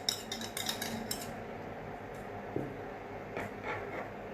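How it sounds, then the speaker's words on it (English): Curd, cream and condensed milk stirred in a bowl, a spoon clinking and scraping in quick bursts at first, then quieter with occasional taps, fairly faint and close. "Okay, then we will give it a nice stir."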